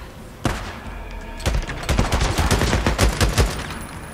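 Rapid bursts of gunfire from the video game Days Gone crack out in a single shot followed by a dense, loud barrage of overlapping shots and thumps.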